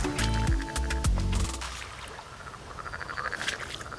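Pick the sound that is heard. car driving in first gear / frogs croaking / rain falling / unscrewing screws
frogs croaking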